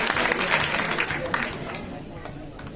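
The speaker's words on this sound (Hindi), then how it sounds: "जोरदार तालियां दीजिए" An audience at a college farewell party breaks into lively applause, close and energetic at first, then thinning as the clapping fades.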